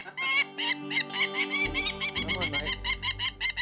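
A distressed wild cassowary gives a rapid run of harsh, repeated squawking calls, close and loud, in a steady pulsing rhythm, with someone speaking briefly over the start.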